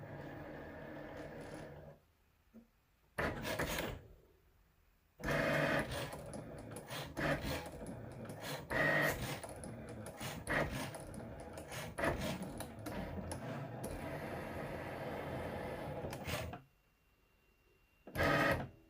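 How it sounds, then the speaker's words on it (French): A small craft cutting machine cuts a design into material on its mat, whirring and scraping mechanically in bursts of varying length with short quiet pauses in between. "Là, ça va aller à la découpe."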